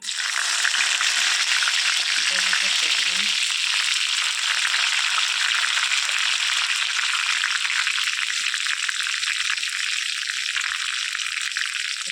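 Curry leaves sizzling in hot oil while making kanda poha: a dense, steady frying hiss, loud and close, holding on throughout with no talk.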